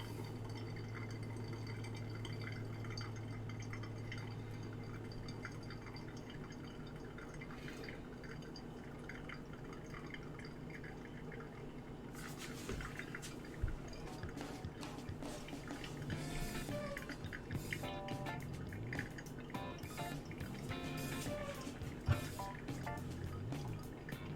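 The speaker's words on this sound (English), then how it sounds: "Not supposed to pour it above the grains, but I'm getting tired of waiting." Liquid is poured over grains in a soft, faint trickle with scattered drips, quiet and close.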